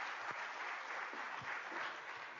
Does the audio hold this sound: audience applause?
yes